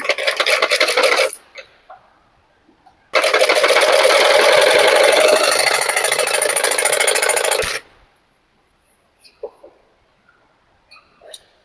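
A sewing machine stitching blouse fabric for a princess cut blouse: a short fast whir, a pause, then a longer steady run of rapid stitching, followed by faint clicks and handling noises.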